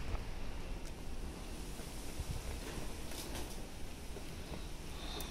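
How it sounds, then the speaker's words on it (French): Wind blowing outdoors, a steady rushing roar buffeting the microphone, with faint scattered background sounds and no talking. "Il y a du vent."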